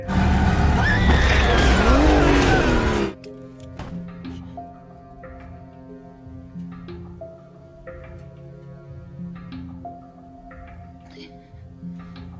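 A car skids and rolls over in a horror film, heard as a loud, dense burst of screeching tires and crashing for about three seconds, then giving way to quieter, steady music.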